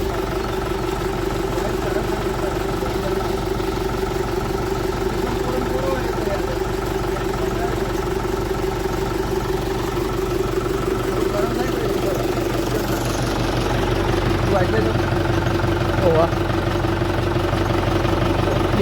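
A farm tractor's diesel engine idling in a field, a steady low chugging throb that holds close and even throughout, with a slight rise in level toward the end.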